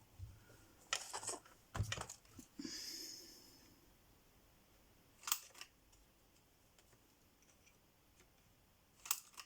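A few separate crisp snips of scissors cutting card stock, heard close and quiet, as a stamped Christmas card is cut out, with a brief soft rustle between the cuts.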